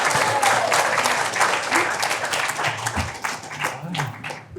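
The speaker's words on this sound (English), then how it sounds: "give a rounding applause to Dr. Lee." An audience at a healthcare talk on atrial fibrillation applauds to welcome the speaker, a steady burst of clapping with some voices underneath that tapers slightly toward the end.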